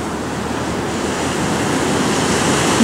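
Mid-sized ocean waves break at a surf spot, peeling from left to right, producing a loud, continuous wash of surf with slight wind noise and no voices.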